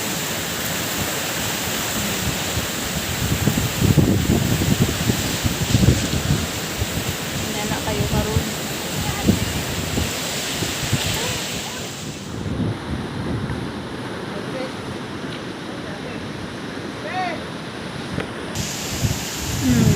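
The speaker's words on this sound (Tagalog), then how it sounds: "inani kadag ko ang balud diri guys so grabe og dako kay ang dagat" Loud, steady roar of surf and wind at a beach, with waves crashing continuously while a person talks briefly over the noise.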